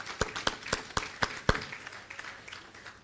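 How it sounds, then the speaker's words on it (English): Audience applause at a credit union's 45th annual general meeting, heard as a short run of distinct, evenly spaced claps that fade out after about a second and a half, leaving faint room noise. "May we give them a round of applause."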